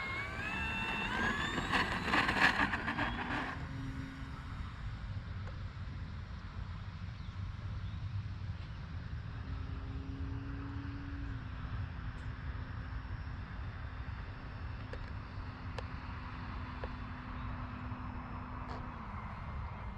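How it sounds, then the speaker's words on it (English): An RC Tecnam 2010 model airplane takes off straight without flaps, its small electric motor whining up in pitch and then holding a steady drone at a distance over outdoor rumble. "this time we're going to take off without any takeoff flaps. We're just going to take off straight."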